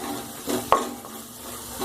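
Tempering paste sautéing in a pan for drumstick kadhi, a soft low sizzle with a single sharp clink of a spoon against the pan and gentle stirring, close and quiet.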